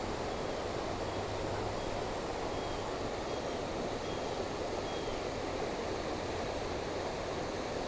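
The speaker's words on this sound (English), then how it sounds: "And here's the stream I was talking about." A wild stream flowing beside the Buck's Pocket trail, a constant close rushing and splashing of water, even and unbroken throughout.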